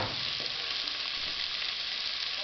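Lečo with sausage frying in a pan, a dense, steady, close sizzle with no break and no voices.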